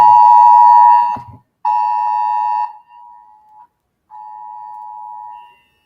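A civil defense flood warning alarm sounds during heavy rain, a loud electronic tone blaring in several long bursts with short gaps, the later blasts softer.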